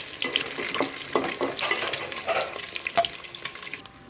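Eggs frying in ghee for an aloo anda curry, a close, uneven sizzle with bursts of spattering and stirring scrapes, no voices.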